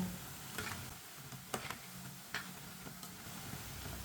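Besan pakoras fry in oil in a kadhai with a soft, steady sizzle, broken by occasional light ticks and taps as they are turned; fairly faint, no talk.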